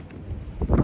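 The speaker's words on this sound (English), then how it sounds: "It is extremely windy." Strong wind gusting across an Arizona backcountry camp with a rooftop tent, a steady low rumble swelling into a louder buffeting gust near the end.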